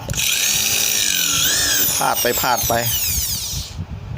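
A power drill bores into a plastic grass-trimmer line disc with a steady, high, whining motor tone that runs almost to the end, while someone speaks briefly over it.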